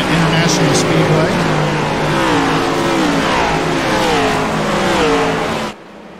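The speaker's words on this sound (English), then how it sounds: "these drivers are rolling off onto the track 2 by 2, getting ready to take the green flag for 200 laps around Daytona International Speedway" Race cars roll onto the track two by two at Daytona International Speedway before the green flag, a loud, continuous roar of engines close by that cuts off abruptly near the end.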